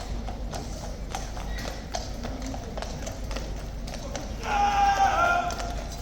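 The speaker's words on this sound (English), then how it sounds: "The horses come back and go into the road." Horses' hooves clip-clop on a road at the Horse Guards, a steady run of sharp knocks under constant crowd murmur and talk, with a brighter swell of voices toward the end.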